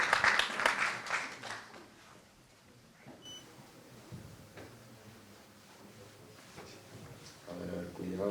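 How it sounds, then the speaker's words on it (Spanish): An audience at a university lecture-series event applauds a raffle winner in a burst of clapping that fades within a couple of seconds into quiet room noise and faint shuffling. "Un aplauso para él."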